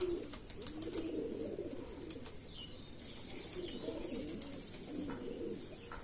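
Andhra Madrasi Dasu Mundisada pigeons coo softly in a low, rolling murmur, with occasional wing flaps and faint chirps, steady throughout on a cloudy day.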